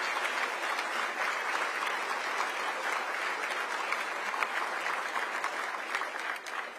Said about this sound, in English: Please give a round of applause to our incredibly dedicated team.